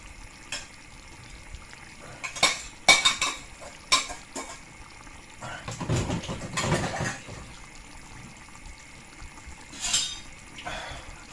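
Rice being plated from a pot with a big spoon: metal spoon scrapes and clinks against cookware and a plate, in irregular bursts, close by and moderately loud.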